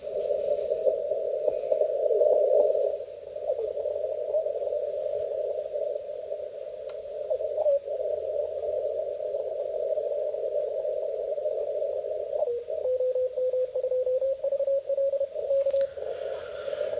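Morse CW sidetone pitched at 540 hertz on a Yaesu FTDX10 and Elecraft KX3, a steady tone under faint band noise, briefly keyed and broken near the end, with no talking.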